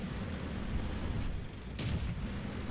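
An artillery shell strikes a Panzer 4H tank in World of Tanks, a heavy rumbling explosion over continuous low battlefield roar, followed by a sharper crack of impact about two-thirds through.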